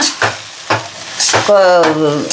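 Coconut rice being stirred in a pan, sizzling in short bursts with scraping strokes, and a voice speaking briefly near the end.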